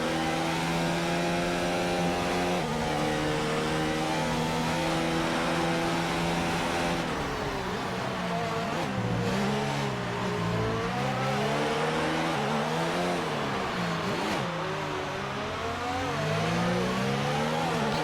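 Race cars in an Xbox racing game on the final lap at the Abu Dhabi Grand Prix: a continuous loud engine whine that rises and falls through gear changes, with several cars overlapping.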